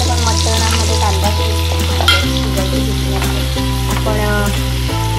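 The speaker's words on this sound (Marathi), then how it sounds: "तेलावर चांगला कांदा मऊ झालेला आहे" Onion sizzles and fries in hot oil for mutton curry, a steady close crackle with light stirring scrapes throughout and no talking.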